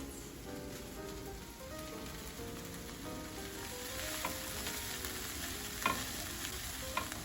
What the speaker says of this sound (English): sauté the bell peppers and onion in a non-stick pan over medium heat for 5 minutes